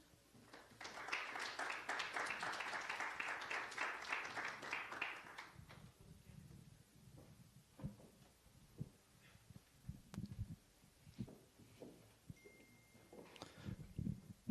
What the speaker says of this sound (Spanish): Les pido que recibamos con un fuerte aplauso al doctor Oldemar Rodríguez Rojas.